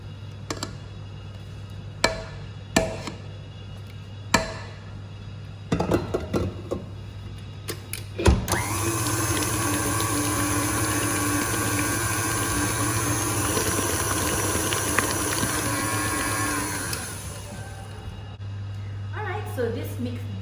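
A stand mixer whirs steadily for about ten seconds as it beats Nutella cheesecake batter, preceded by scraping knocks and clinks, with a voice talking before and after the motor.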